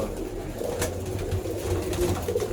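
Pigeons in a home loft near Baruipur, cooing softly in low repeated murmurs beneath a steady ambient hum, with no talking.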